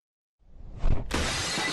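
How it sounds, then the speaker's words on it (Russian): Window glass smashed in the horror video game Go To Bed, one loud, sharp shatter after a short rumble, with tinkling debris ringing on afterward, no talk. "Он разбил мое окно!"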